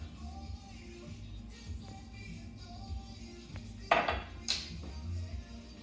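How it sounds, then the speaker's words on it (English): Irish bread dough of buttermilk and flour being stirred with a wooden spoon in a bowl in a home kitchen, giving soft scraping and a couple of sharper knocks against the bowl over a low steady background hum. "we're going to mix with a wooden spoon"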